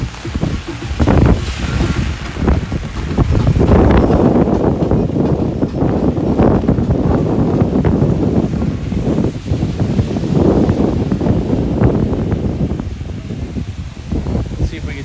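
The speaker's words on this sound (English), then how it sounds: "I didn't know if it was going to be this windy." Strong wind roars and buffets a microphone continuously in South Beach, Miami, Florida, a dense loud rumble with gusting swells and no pauses.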